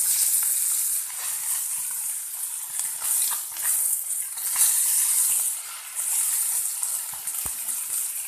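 Sardines sizzle steadily in a hot pan of oil after being flipped, a constant close bright hiss and crackle with gentle swells and small pops, no voices.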